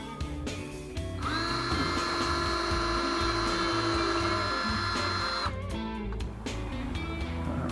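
A small power drill whines steadily for several seconds at a high pitch, drilling a hole in a cap bill, starting and stopping abruptly, close by.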